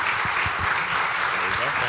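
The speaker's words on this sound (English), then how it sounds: "So give them a round of applause, guys," Audience applause at an indie game pitch event, steady dense clapping filling the short moment with a few faint voices mixed in.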